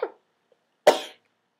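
A single close sneeze, short and sharp, comes after a smaller breathy sound in an otherwise quiet room.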